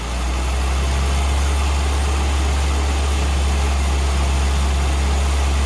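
A small carbureted engine idles steadily and loudly on a reasonably lean mix, a constant low rumble with no talking.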